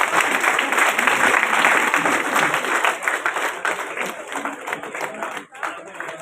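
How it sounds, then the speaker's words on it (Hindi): Crowd at a sword presentation ceremony in Udaipur breaks into sustained applause, dense clapping throughout with voices talking over it and a loudspeaker hum in the background. "सभी उपस्थित महानुभावों से निवेदन है कि तालियां बजाएं"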